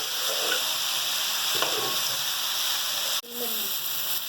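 Raw mango pieces frying in ghee, a steady close hiss and sizzle with a brief dip as they are stirred, and faint speech in the background.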